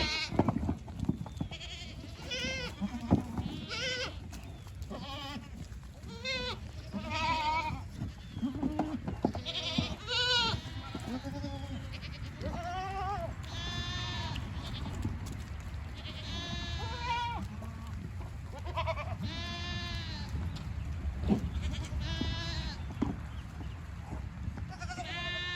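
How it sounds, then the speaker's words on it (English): Several goats bleat repeatedly and overlap while being moved to pasture, some near and some farther off, over steady outdoor background noise. "the goats are going in this pasture"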